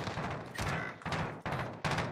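Several sharp bursts of gunfire in the video game Warzone crack out in quick succession with short gaps between them, loud and close, with no talking.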